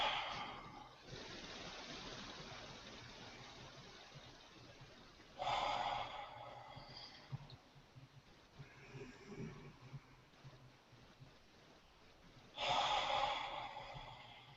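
Bellows breathing in a meditation session: a few sharp, forceful breaths burst out loudly at intervals, with quieter airy breathing in between and no speech.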